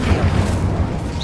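An Incendio fire spell blasts in Hogwarts Legacy with a short, loud, low boom and a rumbling burst of flame.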